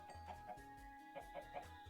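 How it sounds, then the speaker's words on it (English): Minecraft chickens clucking on a rooftop, a few soft, short clucks repeating over steady game background noise, fairly faint. "Merlin, why are there 3 chickens on the rooftop?"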